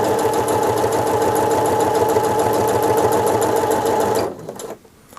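A Pfaff Passport sewing machine stitches in a fast, even mechanical rattle, loud and close, then stops abruptly near the end, leaving a few faint clicks.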